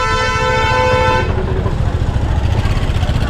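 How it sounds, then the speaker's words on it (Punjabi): A vehicle horn blares in one steady, loud blast for just over a second amid heavy traffic and crowds near a busy gurdwara in Anandpur Sahib, then gives way to a dense, continuous street and crowd rumble. "ਬਿਨਾ ਮਤਲਬ ਤੋਂ ਹਾਰਨ ਮਾਰੀ ਜਾਂਦੇ"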